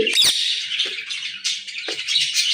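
A pet bird named Mithu gives a few sharp, close chirps and squawks in quick succession, heard alone.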